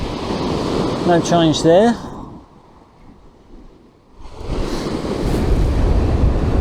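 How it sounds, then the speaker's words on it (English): Wind buffeting the microphone on a Suffolk beach at East Lane, a loud roaring gust that drops away briefly and then returns, with surf in the background and someone speaking early on. "Wind's still a bit keen, still a bit sharp."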